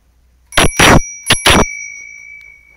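A working bicycle bell rings four times up close, in two quick pairs of bright metallic dings, its tone lingering and fading after the last strike.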